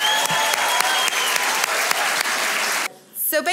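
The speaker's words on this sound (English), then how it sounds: "big round of applause for everyone brave enough to come up here" Loud, dense applause from an animation festival audience cheering those who stepped up to pitch, a thick continuous roar of clapping that cuts off abruptly, followed by a brief voice.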